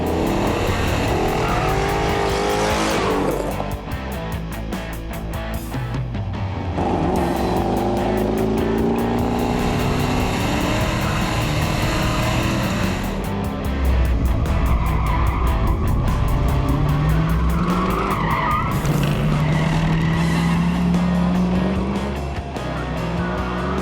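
A 1970 Dodge Challenger with a Hemi V8 roars loudly through the corners of a course, its engine rising and falling between shifts while tires squeal and skid, with no talking.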